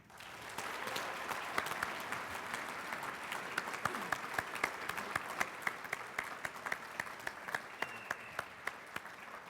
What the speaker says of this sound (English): Please give a big round of applause for your 2013 Civilian of the Year, Regina Rogers.